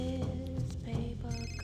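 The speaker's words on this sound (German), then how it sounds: "Es klingelt." Electronic telephone ring in the video game Fahrenheit, repeated tonal bursts in a regular pattern, moderately loud over soft game background.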